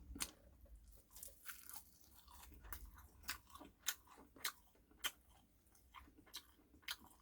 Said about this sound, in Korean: 점심 한끼 먹는 거니까 김도 한점 먹어보겠습니다